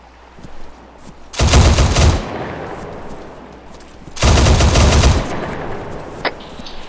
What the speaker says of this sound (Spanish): tenemos disparos a las 6